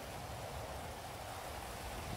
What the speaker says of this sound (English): Bro, the devs need to stop this rain.